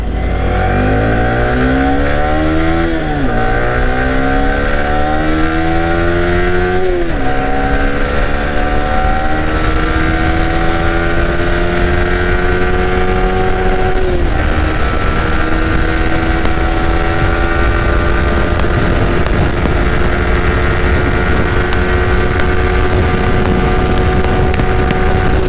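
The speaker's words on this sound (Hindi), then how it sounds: "तो अभी चलेंगे यहाँ से हाईवे में एंड हल्का सा रेव करेंगे इसको" A vehicle's engine revs hard on a highway, rising in pitch through the gears with audible shift drops in the first few seconds, then holding a loud steady roar mixed with wind noise.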